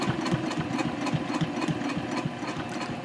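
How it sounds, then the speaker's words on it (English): A sewing machine topstitching a tote handbag at a 3.0 stitch length, fast steady mechanical chatter with rapid rhythmic needle thumps, close and continuous without speech. "I'm just stitching right over that previous line of top stitching"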